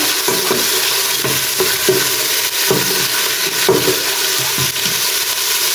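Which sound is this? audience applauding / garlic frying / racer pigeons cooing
garlic frying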